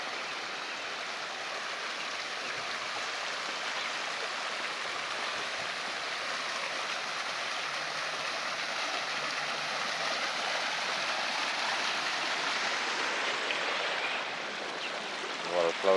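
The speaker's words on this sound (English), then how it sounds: "Water flows right down through these channels here." Water flows steadily through channels along a downtown riverwalk in San Angelo, Texas, a constant broadband rushing and gurgling heard close and even throughout, with a faint change near the end.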